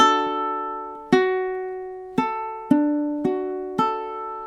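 Ukulele plucking a measure of a song, with about six separate chord and note attacks each left to ring and decay, close and clear with no voice.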